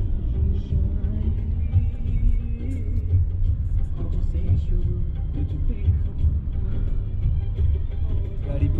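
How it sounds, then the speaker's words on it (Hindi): A car climbs a snowy mountain pass on the Manali to Leh road near Baralacha, with banks of snow beside the road, giving a steady, continuous engine and road rumble from start to finish. "गाड़ी पूरी स्नो के बाजू से होते हुए जा रही"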